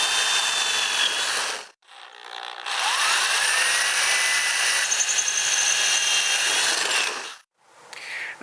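A power drill bores holes with a 1/4 inch bit through 1/4 inch thick steel, a loud, sustained high whine running in long stretches with brief pauses between.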